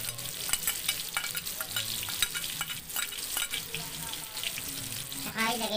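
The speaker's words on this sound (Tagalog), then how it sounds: "Mainit na mainit yung mantika natin. Ayan, sibuyas na. Ilagay na natin yan." Onions dropped into very hot oil give a continuous crackling fry, with scraping stir strokes and clinks of a utensil against the pan, faint and close.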